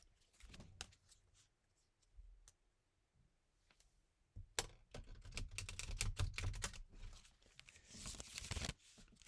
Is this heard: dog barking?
no